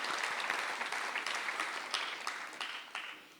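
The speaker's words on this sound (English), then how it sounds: "A big round of applause for the Center for Creative Arts." An audience at the opening night of the Poetry Africa festival applauds in a steady, moderately distant wash of clapping that gradually thins out, with no talking over it.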